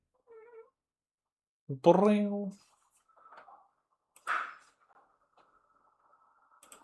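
A house cat gives a short high meow, then a louder, longer tonal meow, followed by a few faint soft vocal bits and a brief rustle in a quiet room.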